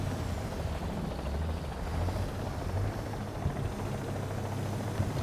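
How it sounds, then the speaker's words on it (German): A helicopter in the War Thunder video game flies close overhead, its rotor beating as a loud, steady low throb that fills the scene. "Ich höre den Hubschrauber nah, wo ist denn der?"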